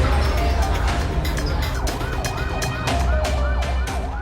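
A wailing ambulance siren sweeps up and down repeatedly over road traffic noise in Rembang, Indonesia, fairly close and prominent throughout.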